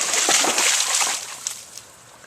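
A dog splashes through river water along the Sacramento while fetching a stick, giving bursts of loud sloshing and splattering that trail off into a few faint drips.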